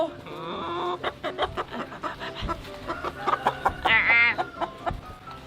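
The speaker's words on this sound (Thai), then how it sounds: "นี่น้องไก่ที่เราไปช่วยมานะทุกคน เขาชวนคุยด้วยอ่ะ" A chicken clucks repeatedly in short, close bursts, with a higher squawk rising partway through.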